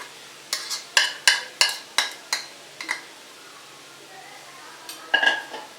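Prawn fry masala stirred in a pan, with a spoon scraping and clinking against the metal in a steady run of sharp strokes, then a pause and a final few scrapes, close and clear with no talking.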